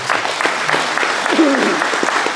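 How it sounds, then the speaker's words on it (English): Audience applause at a veterans' resource coffee gathering, dense steady clapping from a room of people, fairly loud and close, with a voice briefly calling out over it. "So big round of applause for"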